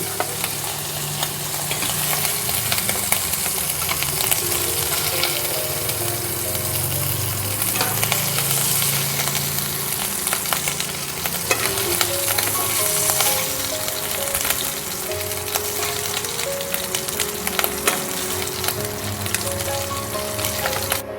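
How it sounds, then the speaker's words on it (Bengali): Pieces of chicken fry in hot oil with a loud, steady sizzle and crackle that carries on unbroken the whole time, close up, with some stirring noises and no talking. "তেলের সঙ্গে চড়চড় বোঝাই যাচ্ছে চিকেনগুলো ভাজা হয়ে গেছে"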